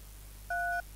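A single DTMF tone, clean and steady, sounds for about a third of a second as a telephone number is keyed in Harrows Halloween Horror, over a low background hum.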